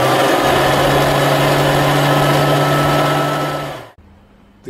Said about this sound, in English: The cylinder will now be running.